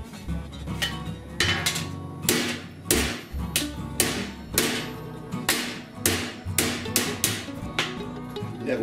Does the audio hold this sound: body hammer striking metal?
yes